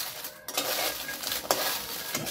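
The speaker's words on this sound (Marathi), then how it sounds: "आपल्याला हे थोड्या थोड्या घालून असं भाजून घ्यायच्या." Whole masala spices dry-roasting in a pan, being stirred with steady scraping and rattling of dry pieces against the metal, with a soft continuous sizzle-like hiss and a sharper knock around the middle, close and moderately loud, no talking.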